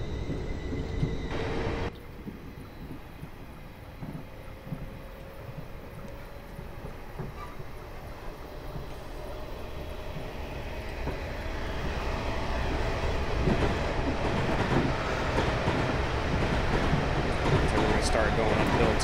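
A Class 444 electric multiple unit train in Train Simulator 2015, Portsmouth Direct Line, rumbles past at close range, its steady roar swelling louder toward the end, with a faint rising whine running underneath.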